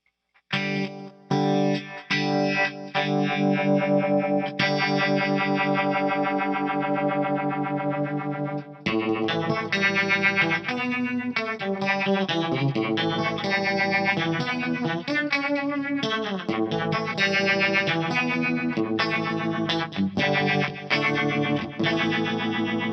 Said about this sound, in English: let's bring the rate knob up and speed up what the phaser sounds like